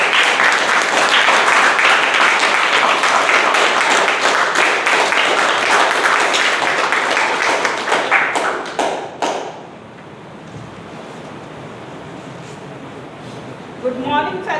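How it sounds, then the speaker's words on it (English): A room of Toastmasters meeting attendees gives a sustained, loud round of clapping that fades out after about nine seconds, leaving quiet room tone with a few faint bird chirps near the end. "So I would request everyone to have a huge round of applause"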